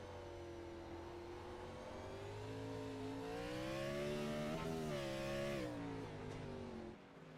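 Race car engines on the Sonoma track rev and rise in pitch as the cars accelerate, a steady loud whine with shifting tones from several cars, carried on under gentle throttle through the curbs.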